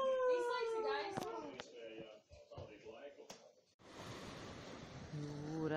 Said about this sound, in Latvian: Jūrā šalts un vēji pūš.